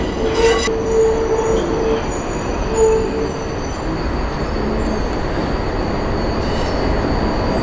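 A Tokyo Ginza Line subway train rumbles steadily nearby as it leaves the depot, with a sharp wheel squeal early on, continuous rail noise and faint high whines throughout, no voices.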